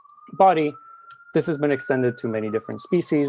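A siren wails steadily outdoors, a sustained tone rising slightly in pitch, running beneath someone talking close by.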